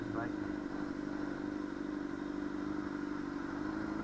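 Motorcycle engine with 33,000 miles idling close by, a steady continuous rumble with a slight clatter, holding level throughout.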